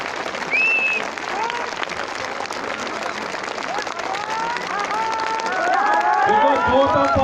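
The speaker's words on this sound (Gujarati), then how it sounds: "એવી તાળી પાડો કોઈ સ્ટાઇલમાં નહીં બે હાથ ઊંચા રાખીને બતાવી પડવી જોઈએ" A large crowd at an outdoor political gathering in Agthala village, Lakhani taluka, claps with hands raised, a dense steady roar of applause that swells toward the end with cheering and voices mixed in.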